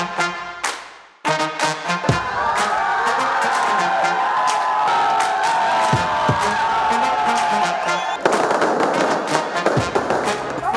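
Fans set off firecrackers at Shivanna's birthday celebration, a dense, loud run of cracking bursts that starts after a brief gap, with crowd cheers and whoops mixed in.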